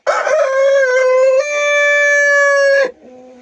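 A Jersey Giant rooster gives one loud, drawn-out crow lasting close to three seconds, rising midway, then ends with a brief lower call.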